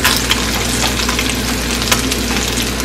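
Rainbow trout frying skin-side in a pan, a loud, dense, unbroken sizzle with a low steady hum beneath and a couple of faint ticks, heard up close with no one talking.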